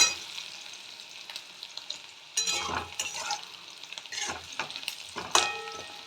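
Oil sizzles softly in a pan of frying onions and garlic while a utensil stirs and scrapes several times, the crackle rising briefly with each stir.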